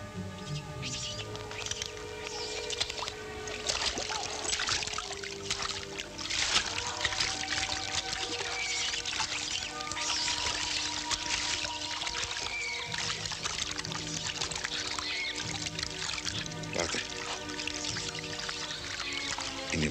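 People wade through a jungle river, with water splashing, pouring and trickling around them under a continuous musical score, fairly close and steady.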